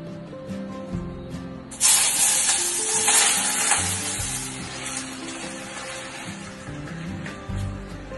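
An omelet sizzles loudly in a hot pan, a sudden bright hiss of frying rising after a brief start and continuing steadily with small clinks of stirring, close up and without speech.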